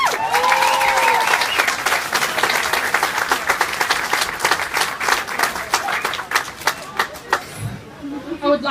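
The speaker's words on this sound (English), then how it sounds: "give the girls one big round of applause" A large crowd at the 2017 Cherry Queen and Charity Queen crowning in a club hall gives the Charity Queen girls sustained applause, dense clapping with murmured chatter underneath that thins out toward the end.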